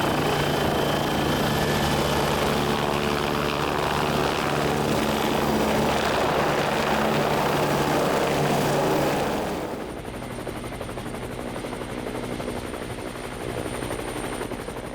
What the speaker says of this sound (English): The helicopter on the landing pad was flown off for a reconnaissance flight